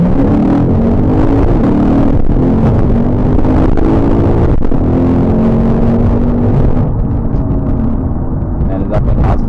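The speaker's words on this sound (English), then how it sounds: "Let's try just launching it without launch control. Let's just try from like from a dig." A Lexus RC F with a 5-liter V8 launches hard from a dig, its engine roaring loud and close as the revs climb steadily, then easing off near the end; no one speaks over it.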